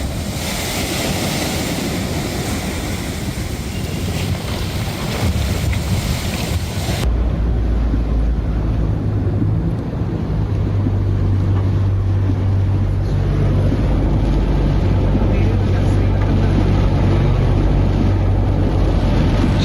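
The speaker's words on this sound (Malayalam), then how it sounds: "കണ്ണമാലി പ്രദേശത്ത് കടൽക്ഷോഭം രൂക്ഷമാണ്" Rough sea surge pounding the Kannamali coast in Ernakulam during monsoon, a steady roar of surf and wind with heavy microphone buffeting, loud and continuous throughout with a low rumbling swell.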